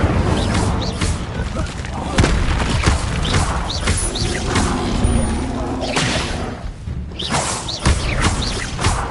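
Incendio fire spells are cast again and again in Hogwarts Legacy, each a booming fiery whoosh, layered with thuds and crashes of combat amid dense game noise.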